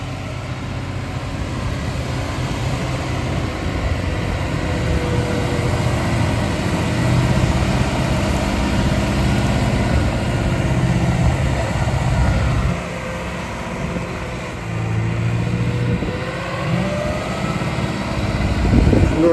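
Fendt 313 tractor engine straining hard while laser-leveling a wheat field with a blade through hard, compacted soil: a loud, steady low rumble that drones on without a break.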